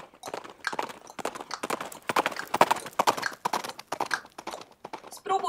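A person clicks their tongue in a steady rhythmic clip-clop imitating horse hooves walking, close and fairly quiet, with no talk over it.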